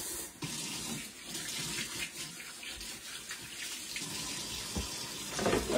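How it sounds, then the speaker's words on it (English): Tap water runs steadily into a sink while hands are washed beneath it, a continuous close hiss and splash with no talking. "I'm going to wash my hands."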